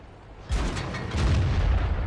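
A heavy ST-I tank cannon fires in World of Tanks, one deep booming shot with a rumbling tail that lingers and swells under continuing low battlefield noise, with no talking.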